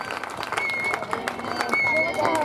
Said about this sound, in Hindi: थोड़ी सी जोरदार तालियां होनी चाहिए भाई आप सभी की तरफ से।